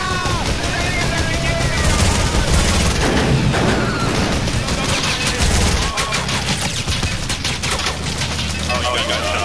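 Dense automatic gunfire and rapid shots ring out in a Fortnite match, loud and continuous, with booming impacts and bursts piling up throughout as players talk excitedly underneath.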